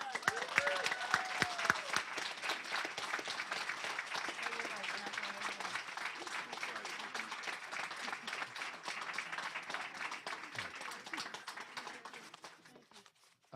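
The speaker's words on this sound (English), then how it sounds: "One more round of applause." Sustained audience applause at a library dedication, dense steady clapping filling the room for about twelve seconds before tapering off near the end, with a few voices briefly mixed in.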